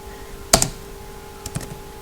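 A few sharp computer keyboard keystrokes while typing CSS code, one crisp clustered burst of clicks followed by a lighter, quieter group of taps a second later.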